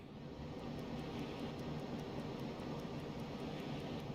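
Airplane engines drone steadily overhead in the Uboat naval game, a continuous, fairly close broadband roar with a low hum, heard alone without talk for about four seconds.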